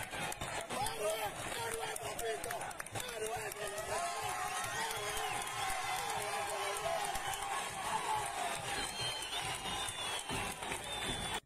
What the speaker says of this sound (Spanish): Mira cómo le aplaudían a ese man cuando salía.